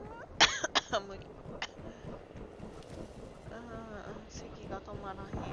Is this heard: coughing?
yes